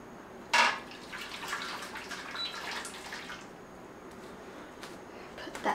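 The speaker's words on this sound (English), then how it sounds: "Boiling water." Water boils in a pot while a baked cheesecake is made, giving a soft, steady bubbling hiss close by. A brief clatter sounds near the start.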